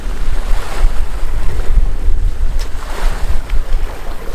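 Strong wind buffets a fishing boat out on the water during rain, a loud continuous roar of gusts and waves with heavy microphone wind noise and no talking.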